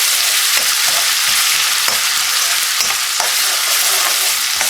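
Whole coriander, ajwain and ginger sizzle steadily in hot oil in a pan, a dense close frying hiss broken by regular stirring scrapes, with no talking.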